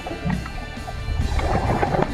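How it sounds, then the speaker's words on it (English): Rumbling, gurgling bursts of scuba diver exhaust bubbles close to a handheld GoPro underwater, a dense low churn that swells and continues steadily with a muffled underwater quality. "That's your exhaust bubbles."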